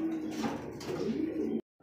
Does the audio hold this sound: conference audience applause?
no